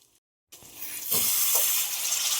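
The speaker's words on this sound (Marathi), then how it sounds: "थोडा पाण्याचा शिपका मारते मी याच्यावर" Water sprinkled onto stuffed brinjals cooking in a hot pan: after a brief silence, a sudden loud sizzle bursts up and keeps hissing steadily, with no talk.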